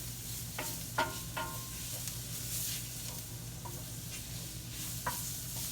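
Flour being worked into hamburger steak drippings and onions in a skillet for gravy: a steady close sizzle with a few distinct scraping strokes of the utensil against the pan.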